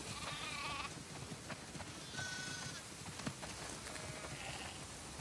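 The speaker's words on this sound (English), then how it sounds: "Wow, that's a lot of sheep." Faint bleating from a few sheep in The Last of Us Part II over a dense, noisy background, the calls brief and scattered.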